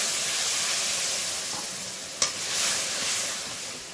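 Spices frying and sizzling steadily in hot oil for a Bengali fish curry, close and continuous, with a single sharp clack from the pan partway through.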